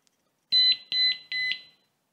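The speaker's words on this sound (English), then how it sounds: "You just push it down and it's armed. Gives you a beep to tell you." A REAPP alarm disc lock beeps as it is pushed down and armed, giving three close, clear, high-pitched electronic beeps in quick succession after a short silence.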